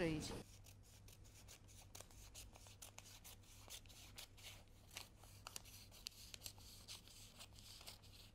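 Scissors cutting fabric for evening dress pieces, close quiet snips and rubbing of blades through cloth repeating irregularly over a low steady hum.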